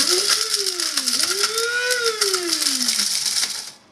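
An electric spice grinder whirs briefly on whole spices for curry, its motor pitch rising and dipping as the pieces rattle and crack inside, loud and close, then winding down at the end.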